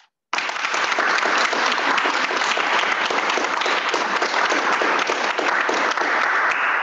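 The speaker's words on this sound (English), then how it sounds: "Let's clap for that." Dense, loud applause from a gallery audience at a creative writing event in Ohio, breaking out abruptly after a brief silence and holding steady for about six seconds, no voices.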